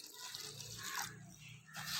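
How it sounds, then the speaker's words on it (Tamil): Water is poured into a bowl of flattened rice to rinse it in a home kitchen, making a steady, close splashing and trickling stream that runs for about two seconds with no voices. "தண்ணி ஊற்றி கழுவிடலாம்."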